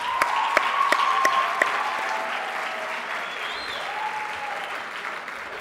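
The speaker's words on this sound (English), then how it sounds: "You can applaud them." Audience applause at the closing ceremony of the Round Square African–European Conference, a dense steady roar of many hands clapping with a few sharper claps near the start, moderately loud and continuous.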